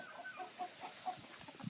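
A hen clucks on a farm during morning chores, a few soft, short clucks spaced irregularly at low volume against quiet outdoor background.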